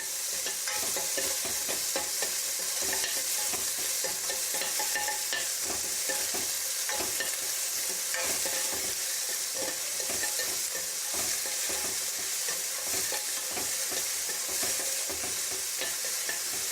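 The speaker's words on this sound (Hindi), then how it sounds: "अब इसके बाद इसमें वो मीडियम साइज के प्याज हैं जो बारीक कटा हुआ है, इसको हल्का सा भून लेंगे" Finely chopped medium-sized onions lightly frying in oil, a steady close sizzle with bursts of spatula stirring throughout and no voices.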